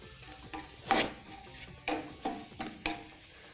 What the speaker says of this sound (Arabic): لازم نبقى واقفين قدامها نفضل نقلب فيها لحد لما تاخد اللون الذهبي